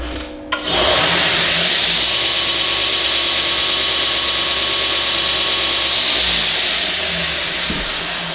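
A belt linisher grinder starts up after a brief pause and runs on as a loud, steady broadband whir and rush, fading slightly toward the end, with no talking.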